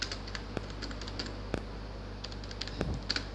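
Keys tapped on a computer keyboard while numbered text is entered in a document, a steady run of light, close clicks with a few louder strokes.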